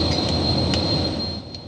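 Private jet accelerating down the runway on takeoff, a loud steady engine roar with a high whining tone held throughout from inside the cabin, fading slightly at the end.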